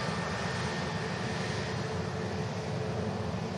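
Company airliner at Manchester Airport, a steady broadband engine roar that holds for a few seconds without a break, fairly loud and with no voices over it.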